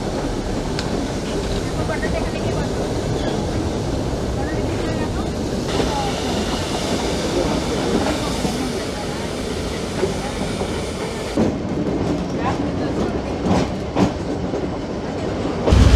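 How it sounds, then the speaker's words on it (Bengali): A four-coach mountain toy train running from Udhagamandalam to Mettupalayam clatters steadily through hillside tunnels, its wheels rumbling in a dense, continuous roar with occasional sharp clanks. "আর সেগুলো দিয়েই ট্রেন কিন্তু যাচ্ছে।"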